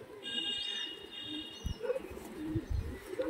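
A domestic tight-tailed pigeon coos softly amid a few high whistling tones, with some close handling thumps toward the end.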